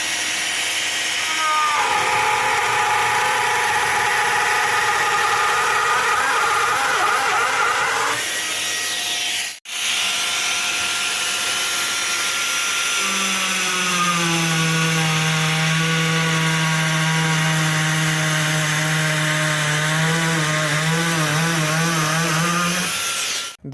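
A Parkside Performance cordless edge router (PPAKF 12 A1) with performance bits cuts grooves in wood, whining loudly and continuously up close, pitch shifting as it bites, with a brief stop midway.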